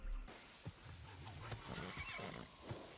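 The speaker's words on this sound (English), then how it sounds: "Those horses are beautiful, and Moriene's obviously keeping them refres" Horses neighing and whinnying outdoors, several short calls rising over soft hoof clip-clops, moderately distant and fairly quiet, with no talk.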